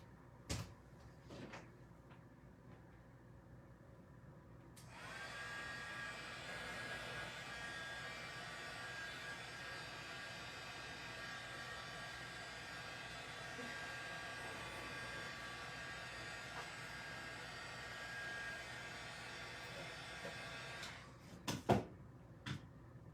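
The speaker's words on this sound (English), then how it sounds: "I'm just gonna blow over them with my heat tool" A heat tool blows air over damp paper crafts, a steady whooshing hum that switches on abruptly, runs evenly for about sixteen seconds, then cuts off amid a few light handling clicks and taps.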